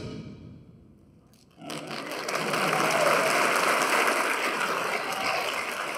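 Audience applause at a school pops concert swells in after a quiet first second and a half, then holds as a dense, steady wash of clapping from a large crowd.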